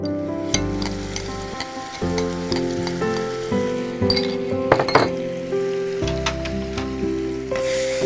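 Mashed bananas fry in a pan for banana halwa, a soft sizzle under music with scattered clinks and scrapes as they are stirred.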